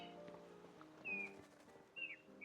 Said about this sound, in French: Il y a l'air d'avoir des oiseaux, non, ici.